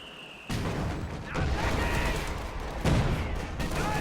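Mortar and machine gun fire in a tank-and-infantry strategy game battle, heavy bursts and booms starting abruptly after a short lull, dense and loud, with a second burst of impacts near the end.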